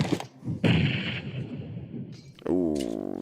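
A grenade bursts in a Clash of Clans esports qualifier match, a sharp boom with a rumbling tail, followed by further game effects while a commentator talks excitedly over the action.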